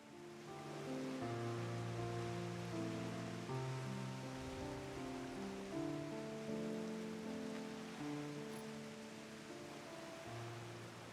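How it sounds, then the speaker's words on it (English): Soft, steady hiss of falling rain in the Final Fantasy XIV video game, heard faintly beneath layered sustained musical tones with no talking. "So goddamn rainy."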